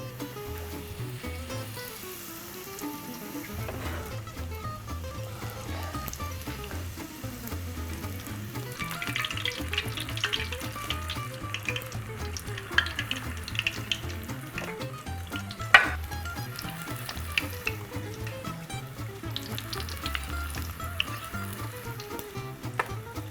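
Battered onion rings fry in hot oil with a steady, busy sizzle and crackle, close and continuous, with occasional sharper pops rising above the bubbling.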